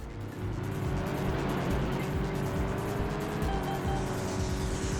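Race car engines in the PS1 game Vanishing Point drone steadily with a loud, buzzing, harmonic whine that holds a constant pitch, close and continuous from start to finish.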